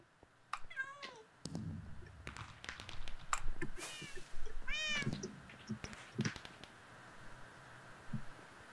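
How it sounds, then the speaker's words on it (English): Cat meows in a Minecraft Block Hunt game: several short, high-pitched game meows in quick bursts among clicks and hits, fairly clear over a faint background, with a player talking in places. "Well, I get to meow."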